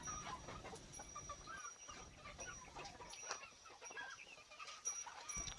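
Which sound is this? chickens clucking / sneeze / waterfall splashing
chickens clucking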